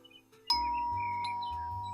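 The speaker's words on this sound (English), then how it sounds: "I better use the doorbell instead of knocking" A two-tone doorbell chime rings once inside the Dirty Split video game, clear and close, its bright tone lingering and slowly fading with a soft lower note following.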